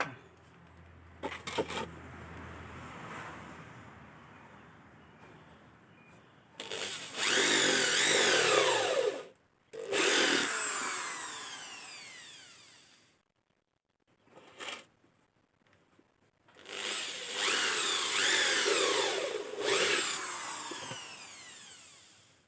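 Power drill driving screws into a wooden stingless bee hive box, in several long whirring bursts separated by short pauses, close and loud with no talking.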